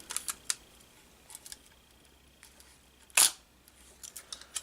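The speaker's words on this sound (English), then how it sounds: "it has a horizontally traveling cloth focal plane shutter." Shutter of a camera with a horizontally traveling cloth focal plane shutter firing once, a sharp close snap amid faint handling clicks and taps in a quiet room.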